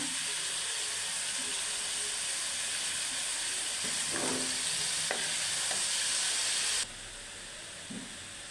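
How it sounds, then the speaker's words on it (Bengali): Steady loud sizzling and hissing of watermelon rind and shrimp frying in a pan, with occasional scraping stirs, the sizzle dropping slightly near the end. "কিছুটা সময় ভাজা ভাজা করার পর, মানে একটু ভালো করে উল্টে পাল্টে নেড়ে নেবেন"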